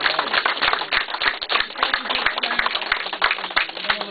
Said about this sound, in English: please give Ian a huge round of applause